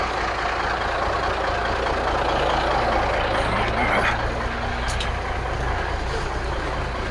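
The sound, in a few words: old truck engine running while driving down the road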